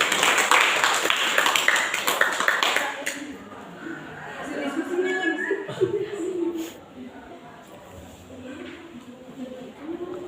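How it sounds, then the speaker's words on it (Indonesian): Pupils in a classroom clap for their group for a few seconds. The dense, close clapping then drops away, and a teacher's voice and quieter room chatter follow. "Tepuk tangan buat kelompok 6"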